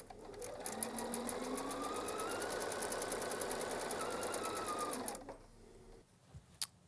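A sewing machine stitches a quilt block for a Garden Moss quilt, running in a steady continuous hum for about five seconds before stopping, followed by a few quiet handling clicks.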